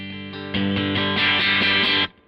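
Electric guitar on the bridge pickup through an amp with gain at 50%, volume and tone controls all the way up, breaking up into crunchy overdrive; a few loud sustained strummed chords, ringing close and steady, then cutting off.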